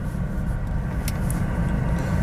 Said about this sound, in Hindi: और गाड़ी मूव करना शुरू कर दिया